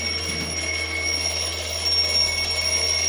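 An alarm rings in an escape room set as a prison escape, a continuous high electronic tone over a steady low hum, holding at an even level throughout.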